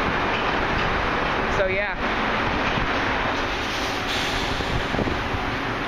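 Car wash brushes scrub a 2008 Pontiac Grand Prix GXP at a Chevron gas station, making a loud, steady swishing roar heard from inside the car, with a short spoken remark partway through.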